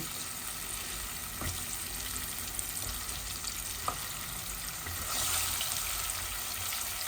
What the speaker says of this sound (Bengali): ভাবছি আলুগুলাকে একটু ভেজে নেই, মজা লাগবে